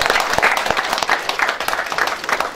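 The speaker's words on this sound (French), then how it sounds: "Je vous prie d'applaudir pour lui s'il vous plaît." An audience applauds at an awards ceremony for Gabonese news in Paris: dense, continuous clapping from many hands, loud and close, with a faint murmur of voices beneath.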